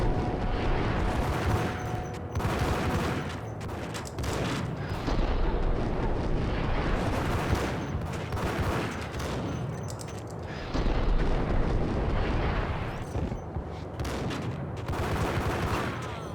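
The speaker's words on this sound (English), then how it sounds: "Grenades." Grenade explosions and gunfire in the Max Payne video game, a dense run of loud, repeated blasts and bursts at close range that continues throughout with no talking.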